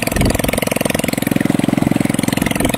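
A motorcycle engine runs steadily nearby with a fast, even putter and no voices over it.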